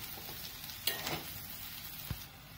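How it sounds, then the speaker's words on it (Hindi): Bread pieces being stirred into fried onions in a pan for bread upma, a steady close sizzle with a couple of sharp utensil knocks against the pan. "अब इसमें ये ब्रेड डाल दें। ब्रेड को भी साथ में मिक्स कर लें।"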